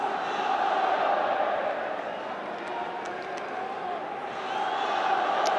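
A football stadium crowd at a Cristiano Ronaldo match with Al Nassr makes a steady, dense roar of cheering that swells slightly and then settles, continuous throughout.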